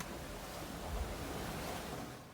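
Ocean waves and wind heard aboard a sailboat on a rolly passage toward Las Palmas de Gran Canaria, a faint, continuous rushing wash with low wind rumble on the microphone, swelling slightly midway.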